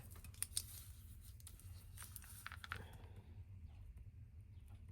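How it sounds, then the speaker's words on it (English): Small scissors fussy-cut paper in close, quiet snips, a handful of sharp little clicks in the first three seconds over a steady low hum, then near silence. "Now I'm getting into the more intricate fussy cutting, which my little scissors are perfect for that."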